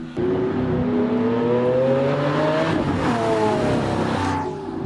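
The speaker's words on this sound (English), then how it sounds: "a 160 horsepower engine could accelerate the same car from 0 miles per hour to 60 miles per hour in 4 seconds" A car accelerating hard, its engine note climbing steadily through the gears with loud, close rising harmonics, then one shift and a second pull before fading at the end.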